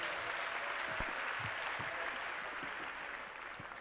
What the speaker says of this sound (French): On peut les applaudir également